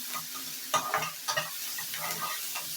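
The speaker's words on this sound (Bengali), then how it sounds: "জিরেটাকে ভালো করে আমি ভেজে নেব" Whole cumin seeds fry and crackle in a hot pan as they are stirred, with a steady soft sizzle broken by sharp scraping clicks from the utensil.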